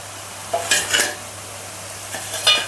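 Sarva pindi, a Telangana rice flour flatbread, roasts golden in a pan with a soft sizzle, broken by a few close metallic scrapes and knocks of utensils.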